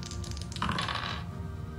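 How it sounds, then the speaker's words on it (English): Dice rattle and tumble in the Knight Manager video game, a short clattering burst over a steady low game background with no talking. "The toss of the dice now decides who the crusty bread recipe goes to."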